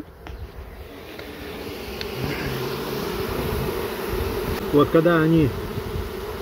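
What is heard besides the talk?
honey bees buzzing near a hive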